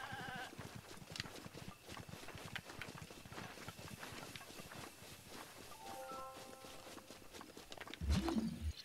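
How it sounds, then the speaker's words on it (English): A goat bleats briefly in The Legend of Zelda: Breath of the Wild, a short nasal cry over a run of quick, soft hoof-like footsteps and game ambience, ending in a louder thump. "Oh, it's a goat."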